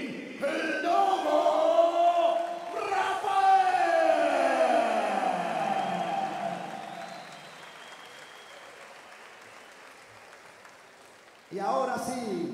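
Crowd cheering and applauding at an MMA fight event for an Argentine fighter, loud and sustained for several seconds, fading gradually before a fresh burst of cheering near the end, with an announcer's voice over the start.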